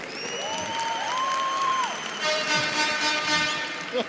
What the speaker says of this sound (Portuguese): uma salva de palmas para o nosso amigo Thiago Leifert